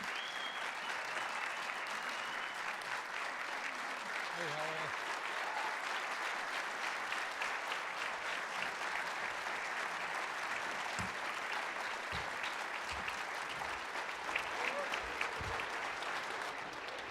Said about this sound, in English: Please help me welcome with a rousing round of applause Senator John Cornyn and Senator Ted Cruz.